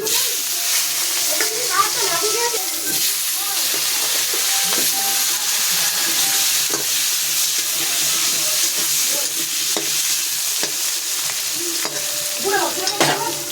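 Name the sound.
potatoes frying in hot oil with whole cumin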